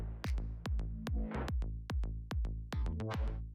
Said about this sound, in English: That's the sound of the purple flame coming out of my hand.